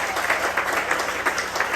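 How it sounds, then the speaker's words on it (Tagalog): Weak, thin applause from a church congregation during a preaching service, a light steady patter of scattered clapping at moderate level with no standout bursts. "Ang hina naman ang palakpak ninyo."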